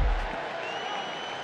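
A WWE wrestling arena crowd cheers and applauds in a short, loud burst that quickly eases off, with a commentator's voice mixed in.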